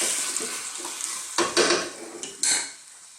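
Potatoes, onions and carrots sweat in a pan with a bright, steady sizzle, while a few scraping stirs and a clatter of the utensil against the pan stand out, no talking.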